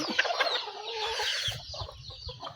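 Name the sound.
chickens clucking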